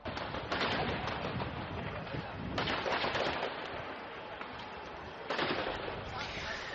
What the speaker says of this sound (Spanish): sonidos de tiros, de tiroteos